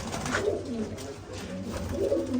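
Pigeons coo softly near at hand, their low murmuring calls overlapping against a steady background murmur throughout.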